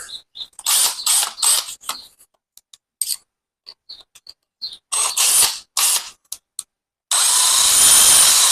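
A power drill bores into metal while a drum mower is put together for a tractor, running in short bursts with pauses between them and ending in one steady spell of whirring.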